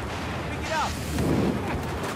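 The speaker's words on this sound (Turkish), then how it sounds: "Aa patladı ama tutmadı" A bomb blast in the video game Battlefield gives a deep booming rumble with a rolling low tail, heard under excited game chatter and talk between players.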